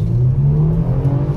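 A 2021 Kia Stinger GT with an all-wheel-drive turbocharged six-cylinder pulls hard under acceleration, a deep, steady engine drone heard loud and close from inside the cabin, with no talking.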